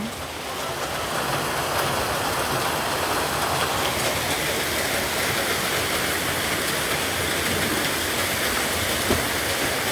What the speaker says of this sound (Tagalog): It rains so hard.